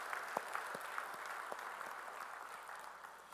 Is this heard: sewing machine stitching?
no